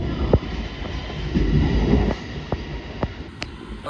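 A new R211S subway train on the Staten Island Railway pulls away, its steady motor hum and low rumble running under scattered clicks and rail knocks at moderate distance.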